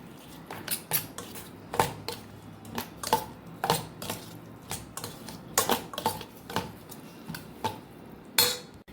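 Tomato chutney mixed in a metal pot after coriander-cumin powder and red chili powder go in, a spoon scraping and clinking against the sides in a steady series of sharp taps, close and fairly quiet, with no talk.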